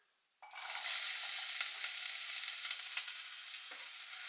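Chopped onion dropped into a spoonful or two of hot vegetable oil bursts into a loud, steady sizzle after a moment of quiet, with a few soft scrapes as it gets stirred.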